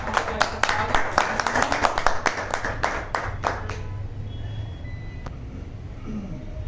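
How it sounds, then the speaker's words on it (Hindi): An audience claps loudly at a gathering, with distinct separate claps for about four seconds before dying away into quiet room tone. "तो आप सब लोगों की जोरदार तालियों के साथ"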